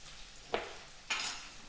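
Bacon fries in a pan as the heat is turned down. Two short bursts of sizzle and scraping stand out against a faint, quiet background, the second lasting a little longer.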